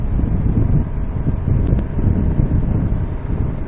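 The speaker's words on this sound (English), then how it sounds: "we've got a hell of a wind, southern wind blowing today" Strong southern wind buffets the microphone while a KLR 650 motorcycle is ridden, a loud, continuous low rumble and roar that surges and dips for the whole stretch, with no talking.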